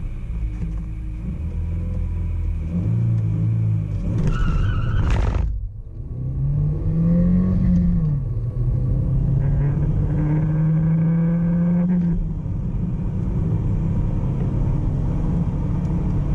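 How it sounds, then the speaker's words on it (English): A Volkswagen Golf MK4 accelerates hard from 0 to 150 km/h, a loud engine rumble that climbs through the gears with brief drops at each shift, heard from inside the car. "So now you will see how this car accelerates from 0 to 100 kilometers per hour and from 100 to 150 kilometers per hour."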